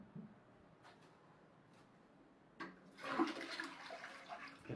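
A toilet in a small room is flushed, starting with a click and a sudden rush of water that swirls and gurgles loudly nearby after a quiet pause.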